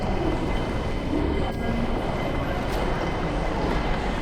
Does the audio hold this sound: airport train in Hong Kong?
yes